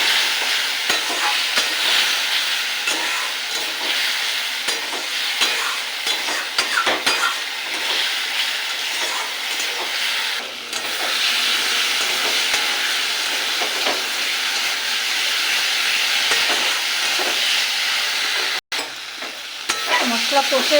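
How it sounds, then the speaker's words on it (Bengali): Ginger, tomato and green chili paste with salt, turmeric and cumin sautéing in oil for a Tengra fish curry: a loud, close, unbroken sizzle with occasional stirring scrapes, steady for about twenty seconds. "এটাকে একটু কষিয়ে নেব।"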